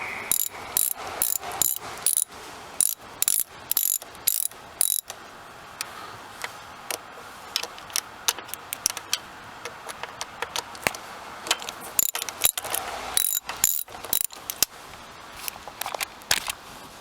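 A ratchet backing out 5/16 bolts on the EGR valve of a Ford 6.0 engine, rapid close clicking in quick runs with short pauses, crisp and alone without talk.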